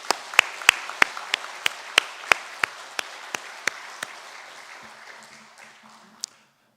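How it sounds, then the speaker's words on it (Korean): Congregation applause during a Sunday worship service at a Methodist church, heard as a series of sharp, evenly spaced claps that gradually thin and fade, with a faint low hum near the end. "한번 박수 보내도록 하겠습니다"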